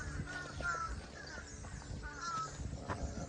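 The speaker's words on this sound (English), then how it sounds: "There's like a second murder of crows up here." A large flock of crows caws repeatedly, with overlapping harsh calls at moderate distance forming a busy, continuous chorus.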